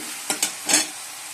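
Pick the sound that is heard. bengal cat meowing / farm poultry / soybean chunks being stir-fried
soybean chunks being stir-fried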